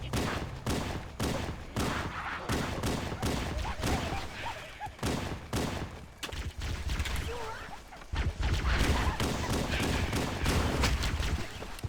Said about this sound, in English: Gunfire from our types of guns.